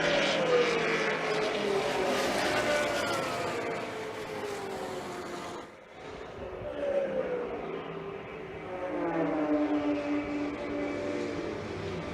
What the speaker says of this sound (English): There comes your GT1 leaders here through turn 1.